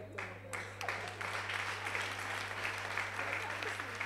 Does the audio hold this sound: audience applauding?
yes